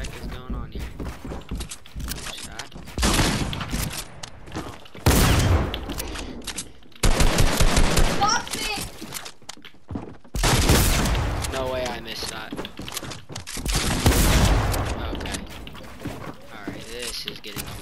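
Shotgun blasts in the Fortnite video game come in loud bursts spread across a busy stretch, mixed with footsteps and game effects, while a player talks over much of it.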